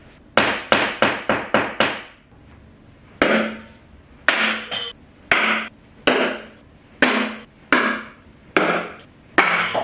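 A quick burst of rapid hammer strikes on a bent knife, then slower, heavier blows with pauses between them, each a sharp metallic clank close up.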